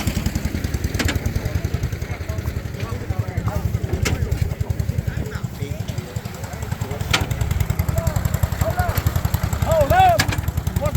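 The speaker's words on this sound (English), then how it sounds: "Good sound little engine." An old small stationary engine runs at a tractor and engine show, a rapid, steady chugging beat throughout, with people talking over it and a few short whistle-like chirps.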